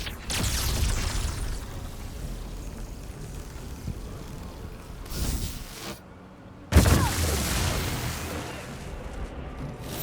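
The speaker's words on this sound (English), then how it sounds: "Chain lightning, that sounds good." The chain lightning spell crackles in Baldur's Gate 3, loud rumbling electric bursts and booms that surge, drop briefly, then strike again with a sharp crack before rolling on.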